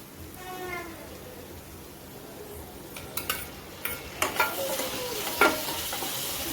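Tomatoes go into golden-brown frying onions for a home-style chicken masala: a faint hiss first, then a series of sharp clinks and scraping stir strokes from a spoon against the pan, close and moderately loud.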